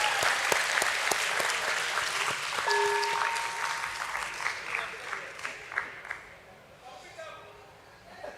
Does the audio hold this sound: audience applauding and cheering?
yes